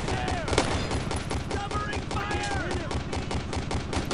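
Dense, continuous gunfire from rifles and machine guns with artillery mixed in, in the World War II shooter game Brothers in Arms: Road to Hill 30, as rapid shots and bursts crowd the whole stretch at steady loudness.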